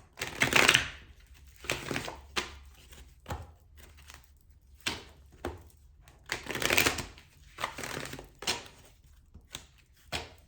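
A deck of oracle cards is shuffled in a series of short riffling bursts separated by quiet pauses, close and fairly soft, with no talking.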